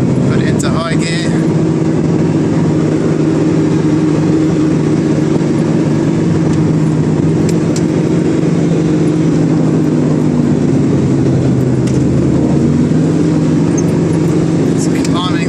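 A 4x4 vehicle's engine pulling steadily in high gear as it climbs on a rough track in Bolivia, a constant low drone with slight rises in pitch and occasional knocks from the vehicle.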